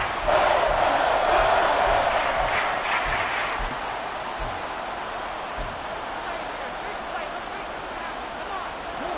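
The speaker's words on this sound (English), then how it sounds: "This crowd turning up the decibel level." Football stadium crowd during a late-game third-and-long, a broad sustained roar that swells loudest early and stays dense throughout, with scattered shouts on top.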